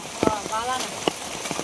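Rain patters steadily on a surface on a rainy day while people talk nearby, with a few sharper drips standing out.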